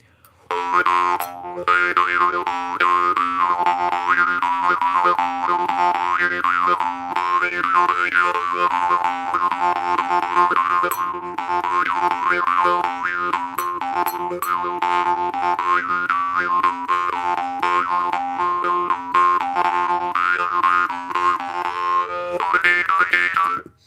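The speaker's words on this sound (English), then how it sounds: "Very, very delicate little Drimba." A small, delicate Drimba jaw harp is plucked in a steady, twangy rhythm, its buzzing drone and shifting overtones continuing closely and loudly throughout.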